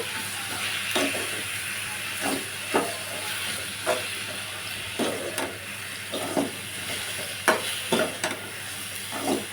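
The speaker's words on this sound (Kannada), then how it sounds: "ನೋಡಿ ಈಗ ಫ್ರೈ ಆಗ್ತಾ ಇದೆ ಚೆನ್ನಾಗಿ ಕೆಂಪಾಗೋವರೆಗೂ ಫ್ರೈ ಆಗಬೇಕಿದು" Onions frying in a pan for onion palya give a steady close sizzle and hiss, broken by periodic scraping stirs every second or so.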